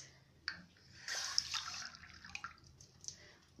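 Water is poured into a pot to make a cream dessert with sugar, faint close splashing and trickling with a few small clinks, quiet and without talk.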